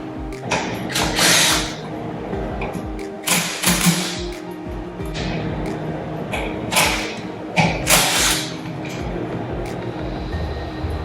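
A socket ratchet works bolts loose on a metal Wilden AODD pump, with bursts of rapid clicking ratcheting at intervals between quieter handling noises, close and fairly loud.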